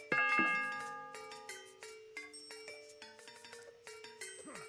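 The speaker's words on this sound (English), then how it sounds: "When the Yep. town bell rings, your villagers take shelter in the nearest town center or watchtower" Town bell alarm in the game Age of Mythology, a run of bright ringing chimes and tones struck repeatedly in quick succession, each with a short decaying ring, clear and alone.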